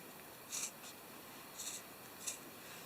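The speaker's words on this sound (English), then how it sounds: "So now I'm going to just go ahead and cut around the line that I drew." Scissors snip through fuzzy sock fabric along a drawn line, three quiet crisp cuts spaced about a second apart in a still room.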